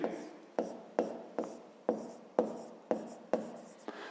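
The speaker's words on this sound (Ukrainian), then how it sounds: "Пишемо тоді точки." A pen taps down onto paper in a regular rhythm, about eight quick marks over four seconds, as points are written during a fifth-grade math exercise; close, quiet and without talk.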